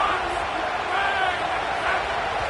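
A stadium crowd roars in a College Football video game, a loud, steady wash of cheering that fills the whole stretch, with a voice talking over it.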